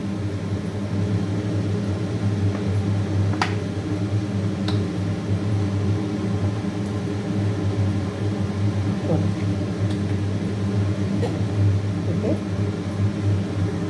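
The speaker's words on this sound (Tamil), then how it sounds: "இப்போ ஸ்டவ்வை பற்ற வச்சுக்கலாம்" A gas stove burns under a pan of heating oil, giving off a steady low roar with faint scattered ticks and no talking.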